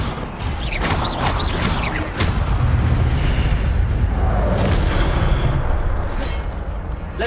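Levioso and Incendio spells in Hogwarts Legacy combat: quick whooshing casts up front give way to a loud, sustained fiery roar with rumbling explosions and pops that fades toward the end.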